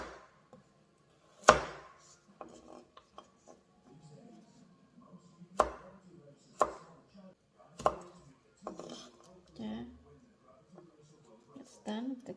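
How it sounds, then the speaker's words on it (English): A knife chops carrot on a cutting board for a spicy chicken with sweet basil dish, giving a handful of sharp, separate thuds spaced a second or two apart, fairly close, with light kitchen handling between strikes. "Let's chop the carrot"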